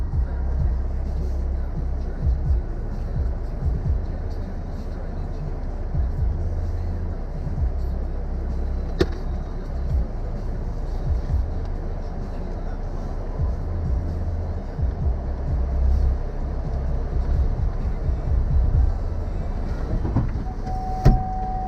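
A car reverses slowly, its engine giving a steady, loud low rumble throughout with a few small clicks and knocks.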